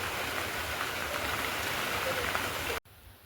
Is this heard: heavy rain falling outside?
yes